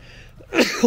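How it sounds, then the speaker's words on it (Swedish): A sneeze in the middle of demolition work on an old cabin, with sawdust in the air: one short, sharp burst close to the mic, followed by a brief trailing breath, with no talk around it. "Förlåt mig, nu nyser jag till och med."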